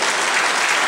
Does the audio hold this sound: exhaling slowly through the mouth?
no